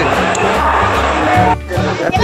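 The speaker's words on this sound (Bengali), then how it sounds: "মারাত্মক ভিড় ট্রেনের মধ্যে।" Packed Canning local commuter train crowded with passengers, a dense wash of overlapping chatter and rumbling carriage noise throughout, briefly dipping before the crowd din swells back.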